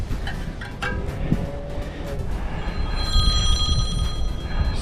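A phone rings with an incoming call during a POV mountain bike tubeless tire mounting, a bright repeating electronic tone coming in partway through over rustling handling noise.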